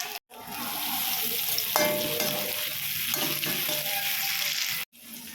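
Onions fry with a few curry leaves in a pan for an okra stir-fry, making a loud, steady close-up sizzle with occasional stirring clatter. The sound cuts out briefly near the start and again near the end, and no one speaks.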